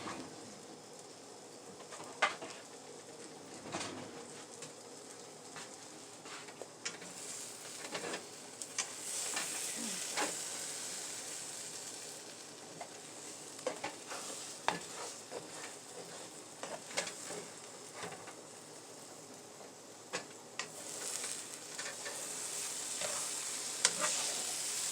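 A French toast breakfast wrap cooks in a frying pan, giving a steady soft sizzle broken by frequent crackles and pops throughout.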